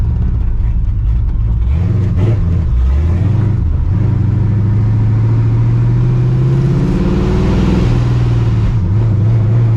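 A cammed, supercharged (Procharger) 1999 Ford Mustang GT being driven, its loud, choppy V8 note droning steadily from inside with rises and dips in revs as it moves through gears.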